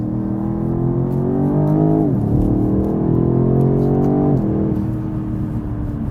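A BMW 8 Series Gran Coupe engine pulls steadily while driving, loud and close, its tone climbing through gears with two clear shift dips before settling into a smooth drone, with no talking over it.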